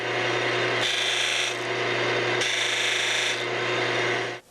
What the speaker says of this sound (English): So let me show you how I grind a little angle on that.